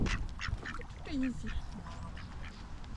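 Several duck quacks, near and fairly clear, over outdoor background noise with some faint voices, at a park by the Tisza river.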